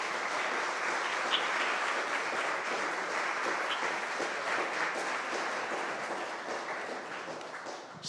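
Sustained audience applause after a talk, an even wash of many hands clapping steadily for about eight seconds, tapering slightly at the end.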